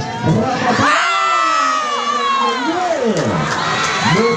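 A loud crowd of spectators at a local volleyball match between Prenges VC and Paya Nahu VC cheers and shouts continuously, with children's shrill voices and whoops rising and falling throughout.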